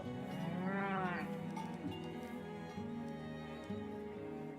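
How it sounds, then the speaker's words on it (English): Cattle in the medieval city-building game Farthest Frontier give a drawn-out moo followed by softer lowing over a faint, steady game ambience. The whole scene is quiet. "Oh, we have the cows going up there now."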